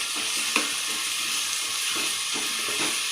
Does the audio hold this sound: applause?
no